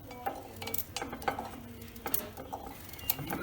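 Knife chopping carrots into small pieces for a South Indian carrot pickle, irregular sharp taps of the blade against a board with light clinks, close and fairly quiet, no voices.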